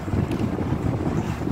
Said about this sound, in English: And the wind is about to take it.